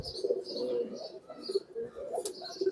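Pigeons cooing softly in a loft, low repeated coos with some faint higher chirps, fairly near and continuous over a quiet background.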